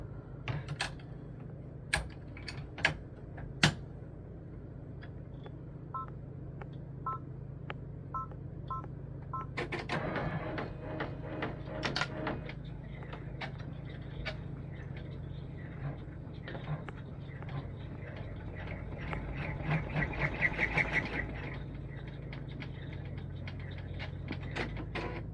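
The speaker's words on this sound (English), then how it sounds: "the next stitch is going to put the placement stitch for the grommet" A home embroidery machine sews a placement stitch for a grommet on a reindeer scarf ornament. It makes rapid mechanical clicking and whirring close up, in bursts, with denser runs of stitching in the middle and near the end.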